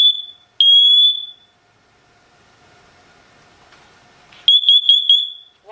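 A SITERWELL hardwired interconnected smoke detector sounds its test alarm: loud, piercing high-pitched beeps in a burst at the start, a quiet gap, then another rapid burst of beeps near the end.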